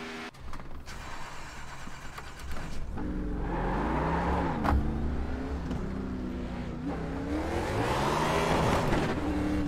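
Racing car engines in a video game whine and rev, pitch sweeping up and down as they accelerate, a loud steady roar building toward the end.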